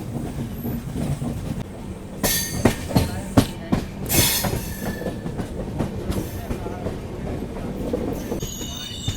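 The Purushottam Express, an Indian passenger train, runs on the tracks toward Chandrapura, heard from on board. There is a loud continuous rumble with rhythmic clickety-clack wheel beats and brief high squeals.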